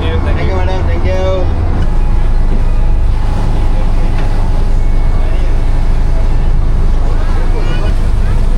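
Whale-watching boat off Mirissa, southern Sri Lanka, nearing shore: a loud, continuous low engine drone heard from on board, with people chattering throughout.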